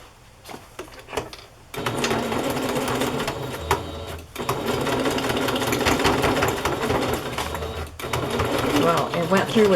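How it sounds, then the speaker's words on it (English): A sewing machine stitches through ribbon and seam binding on a fabric journal pocket, running in steady bursts of close, loud mechanical whirring with brief pauses between runs, while a voice talks over it. "but I will sew through that ribbon"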